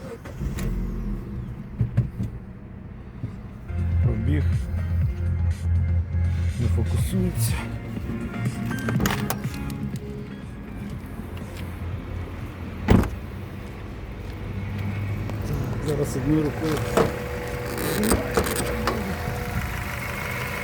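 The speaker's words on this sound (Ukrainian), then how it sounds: "Зараз заведемо машинку. Послухаємо роботу мотора." A used Mazda 3 that runs on both gasoline and LPG starts up and idles steadily at close range. Someone talks over the engine throughout.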